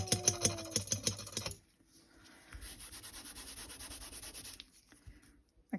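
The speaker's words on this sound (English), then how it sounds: "Did I scrape too hard?" Light scraping on a fingernail during a gel polish manicure, preceded by a few sharp taps, then a steady soft rasping run of about two seconds, close and quiet with no talking.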